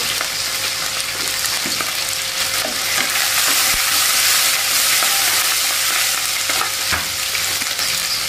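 Nasi goreng with petai frying and being stirred in a pan, a steady loud sizzle with scraping stirring strokes and occasional clinks, no talking.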